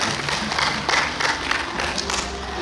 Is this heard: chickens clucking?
no